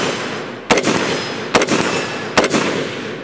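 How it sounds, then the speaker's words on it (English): Four sharp, loud gunshots in rapid succession outdoors while testing 3D-printed MSLA resin tangent sights, each crack ringing out with a short echoing tail. "Let's do a couple rapid fire shots here."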